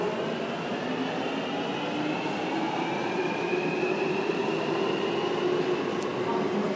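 A London DLR or Jubilee line train heard from on board: a steady, moderately loud rumble and rolling hum holds throughout, with a faint high whine running over it.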